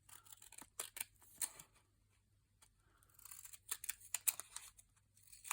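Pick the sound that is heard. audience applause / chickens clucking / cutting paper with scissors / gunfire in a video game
cutting paper with scissors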